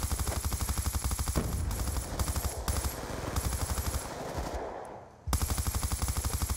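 Rapid bursts of automatic gunfire from a multiplayer video game rattle in quick regular volleys, with muffled firing through smoke in the middle and a brief lull before the rapid shots resume.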